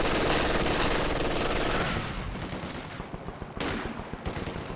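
Machine gun bursts rattle in a Company of Heroes 2 battle, dense continuous fire for about two seconds, then trailing off into scattered, sharper shots.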